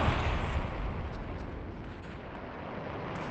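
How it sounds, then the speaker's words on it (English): A grenade launcher fires in the Pop One video game, a heavy booming blast up front that settles into a sustained rumbling wash of explosions and distant gunfire with no break. "Chavo uses the grenade launcher"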